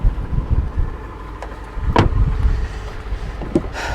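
A Copart salvage car idles with its belts and pulleys turning and no power steering, giving a steady low engine rumble with a couple of brief clicks and knocks on top.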